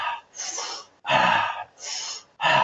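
Rapid, forceful breaths cycling in and out, four quick bursts of inhaling and exhaling with no pauses, close and loud.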